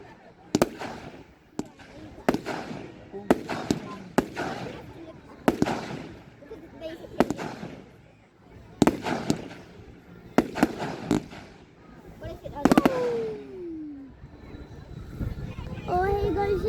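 Fireworks going off at the 2022 Oakington public fireworks display, a series of loud booming bursts and crackles at irregular intervals, with a whistling shell rising near the end and spectators talking and calling out throughout.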